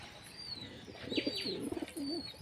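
Racing pigeons in a loft give several low, rolling coos in quick succession, fairly close, with thin high chirps from other birds in the background.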